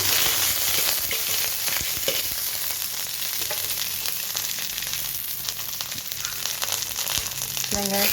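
Mustard seeds and curry leaves frying in a little oil in a kadai, a continuous close sizzle with crackling pops, stirring scrapes and a short clatter near the end.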